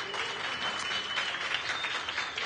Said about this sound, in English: Let's have a round of applause for Bernadette.